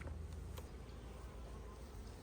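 Honeybees buzz around an open hive box during a colony inspection, a steady low droning hum with no talk, heard close and fairly faint.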